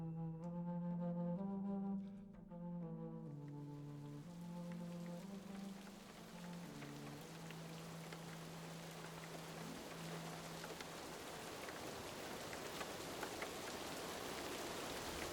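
Steady rain falls as a broad, even hiss that swells in after a short sustained musical passage and continues unbroken at a moderate level, with no voices.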